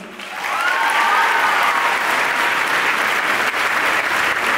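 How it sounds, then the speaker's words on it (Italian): Sustained audience applause at the close of an evening dance recital, a dense, steady clapping from a full crowd that swells quickly and holds at a constant level throughout. "invitiamo a salire sul palco e anche a loro a rivolgervi un caloroso applauso"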